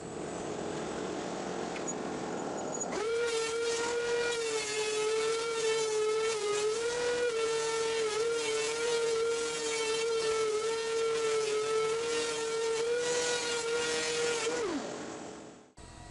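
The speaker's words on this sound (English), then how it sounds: "You can hear a lot of variation in the noise the planer makes while planing the first pass on all these slats" A thickness planer feeds pallet wood slats, starting with a steady motor whine, then jumping to a loud, harsh roaring howl as the board passes through for about twelve seconds, pitch wavering, before dropping back as the slat exits.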